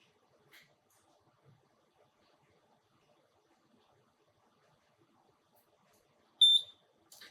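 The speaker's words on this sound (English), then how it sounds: "a blinking green LED with low tone means flashing has started like so" The PROX-PROG production programmer sounds a single short electronic beep near the end as it starts flashing a PCB, after faint scattered clicks in otherwise quiet surroundings.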